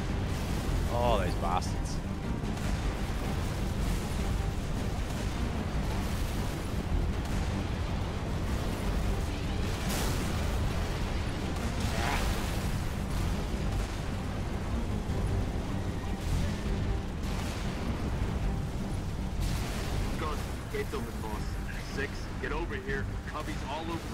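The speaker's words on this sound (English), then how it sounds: "they've got fuel rod shade turrets" Fuel rod shade turrets in the Halo video game fire and explode in dense, continuous bursts of booms and blasts, loud and close, while a man curses over the barrage.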